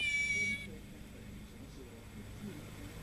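A cat gives a short, clear meow near the start, then only a low indoor rumble remains.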